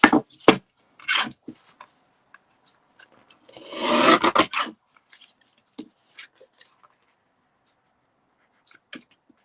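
Cardstock being cut into strips, with a few scattered close snips and rasps and one longer slicing pass in the middle, separated by quiet gaps.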